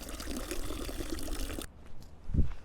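Water splashes from a public drinking fountain in the Swiss Alps into a bottle, a loud continuous gush that cuts off abruptly, leaving quiet surroundings and a brief soft knock.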